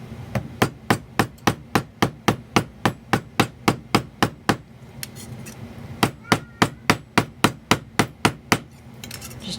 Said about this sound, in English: you can just move to the flat side of your hammer